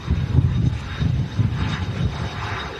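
An Airbus A320neo-family airliner on the runway gives a steady, loud low engine rumble with a broad roar, continuous throughout with no voices over it.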